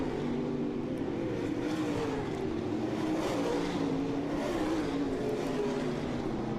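Race cars at Southern Ontario Motor Speedway roaring around the oval, a dense continuous engine drone with rising and falling pitch as cars slide past one another, steady and fairly loud.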